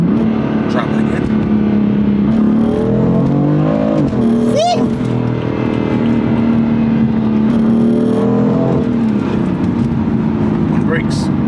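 A 2022 G82 BMW M4 engine rising in a sharp rev as the driver downshifts in traffic, loud and close from inside the cabin, with a steady engine drone before and after and speech at times.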